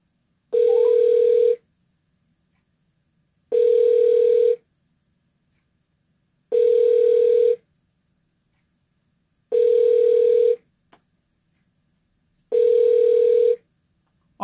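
Outgoing telephone ringback tone repeats five times in a steady rhythm, each long buzz lasting about a second with two-second gaps, clear and close with no talking over it.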